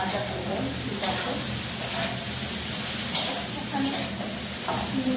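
Potato and eggplant fry in a pan with a steady close sizzle and hiss, joined by occasional stirring scrapes, while a person speaks over the cooking.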